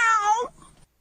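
A single drawn-out meow from a human voice imitating a cat, close and clear, tailing off quickly into quiet.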